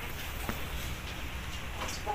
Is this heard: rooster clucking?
yes